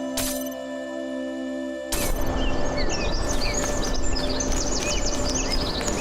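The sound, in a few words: birds chirping ambience in the video game The Talos Principle 2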